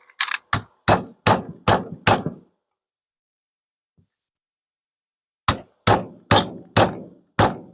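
A hammer strikes bushings in two evenly spaced runs of six and five sharp, loud metallic blows, with a quiet pause between them.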